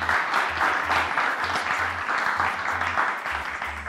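Studio audience applause on a televised quiz competition, a steady dense wash of clapping that carries on loudly for several seconds with no voices over it.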